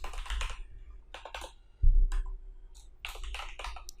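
Rapid clicks of typing on a computer keyboard while entering code, irregular bursts of keystrokes with short pauses, close and clear, no voices.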